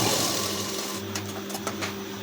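A sewing machine runs steadily while back-tacking the stitching on a blouse tassel, a close, even mechanical hum with light clicks, alone without talk.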